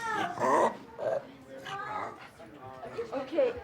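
A pug dog gives short, close yelps and whimpers in uneven bursts as the padding on its body is squeezed during therapy dog training.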